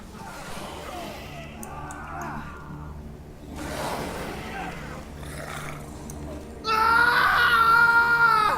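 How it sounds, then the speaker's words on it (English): A man's scream in the video game Thronebreaker, a loud, harsh cry bursting out near the end after a stretch of quieter, low game ambience. "A scream. A man's, I think."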